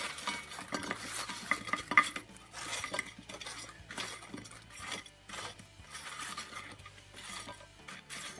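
Spices being stirred into a curry in a pot, a spoon scraping and clinking against the metal in irregular strokes over a faint sizzle, quiet and close with no voices.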